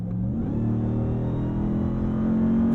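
A 2022 Ram TRX's supercharged HEMI V8 accelerates hard, a deep, steady, rumbling roar that climbs gradually in pitch over about three seconds, heard from inside the cabin.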